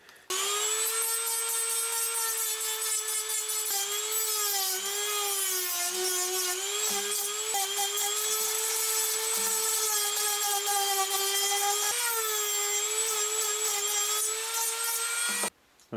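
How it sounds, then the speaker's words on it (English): A Dremel rotary tool sands the corner pieces of a custom 2x4x4 puzzle mod, giving a loud, steady, close high-pitched whine that runs unbroken for the whole stretch with slight pitch wobbles and no talking. "I'm just going to try to keep sanding it"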